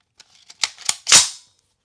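An M1 Garand rifle's action works close by, with a few light metallic clicks and clacks that lead into one sharp, bright ringing ping as the en bloc clip is ejected.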